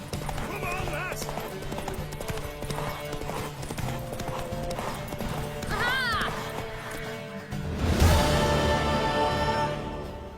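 Hooves clip-clop at a gallop from a horse in The Witcher video game, a steady quick beat under a rider's urgent shouts, with a whinny and a louder burst of movement near the end.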